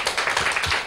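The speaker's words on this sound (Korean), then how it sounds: "박수 한번 쳐주세요." A church audience claps in a short burst of brisk, dense hand clapping, loud and close, lasting under a second.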